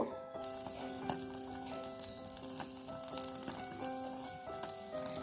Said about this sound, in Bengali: মাছটা আমি উল্টে পাল্টে ভেজে নেব।